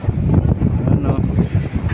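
Strong typhoon wind batters the microphone near the Manila reclamation site, a loud continuous gusting rumble throughout.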